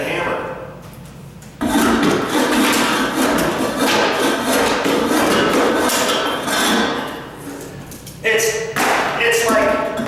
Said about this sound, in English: try to tap the nails sideways and snap them off